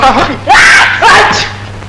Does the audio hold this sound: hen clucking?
no